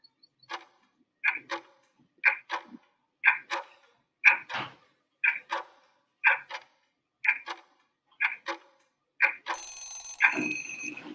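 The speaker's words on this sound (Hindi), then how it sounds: "और हम टाइमर लगा देते हैं।" A quiz countdown timer ticks in an even, steady rhythm of sharp paired clicks, close and clear with nothing else over it, then ends in a brief buzzing ring as time runs out.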